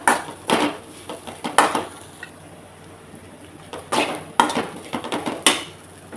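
Cut boiled potatoes being mixed in a pan, with irregular clattering scrapes and knocks of a spoon against the metal coming in bursts and pausing between, close and fairly loud; no talk.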